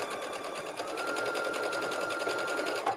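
A sewing machine stitches stretchy T-shirt fabric right alongside elastic up to a side seam, a close, steady rapid needle chatter running continuously for three seconds.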